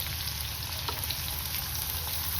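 Green onions frying in a pan for eggplant bharta, with a steady close hiss of sizzling oil throughout and no talking.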